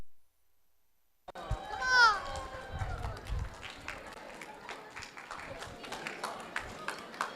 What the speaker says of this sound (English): give a special round of applause to our teams in the final